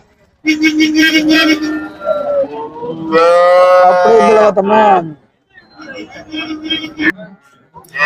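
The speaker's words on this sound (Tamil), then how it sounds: "இங்க ஒரு கடாரி நிறுத்திருக்காங்க எல்லாமே நாட்டு மாடுதா இதெல்லாம் விற்பனைக்கு வந்திருக்குன்னு நினைக்கிறேன்" Native cattle at the Pollachi cattle market moo loudly and close by, with several long, deep calls in succession. Crowd chatter and people talking continue in the background between the calls.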